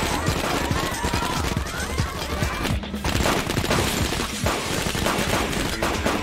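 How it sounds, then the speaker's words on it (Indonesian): Dense, continuous gunfire from a film action scene as henchmen shoot wildly in every direction, loud rapid bursts overlapping with booms and crashes throughout, with a brief lull near the middle. "Anak buahnya langsung menembaki ke segala arah untuk mencari keberadaan Thomas"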